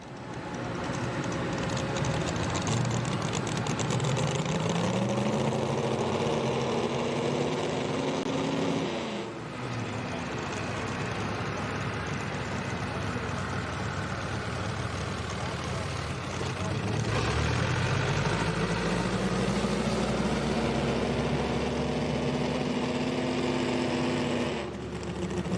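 A tractor-pull engine with individual straight zoomie exhaust pipes idles loudly and steadily, its pitch rising and falling through two revving swells with brief drops, the outdoor pull-event crowd faint beneath it.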